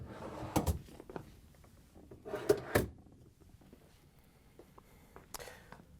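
Dishwasher upper rails are pulled out in a few quick plastic-and-metal sliding clacks, two bursts close together near the start and middle and another later, with quiet gaps between.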